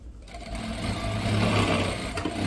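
A Sirius B8-4D lockstitch sewing machine runs through a single rotation, a brief close mechanical whir that starts after a short quiet moment and holds steady for about two seconds, alone with no voices.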